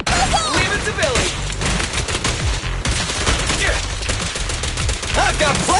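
Gunfire bursts in the video game Zenless Zone Zero crackle in rapid automatic volleys with sharp repeated cracks, loud and dense across the whole stretch, with brief dips between bursts.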